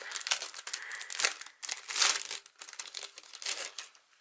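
Crinkly plastic packaging around a Memory Dex card is pulled open, giving bursts of close, bright crackling and rustling with brief pauses, and no talking.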